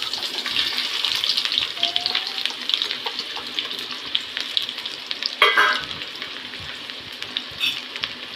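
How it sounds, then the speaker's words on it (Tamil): Small and big onions sizzle as they fry in hot oil for Chettinad kuska, a steady crackling hiss with occasional stirring scrapes and a louder clatter midway. "இப்போ சின்ன வெங்காயத்தை பெரிய வெங்காயத்தை போட்டுக்கலாம்"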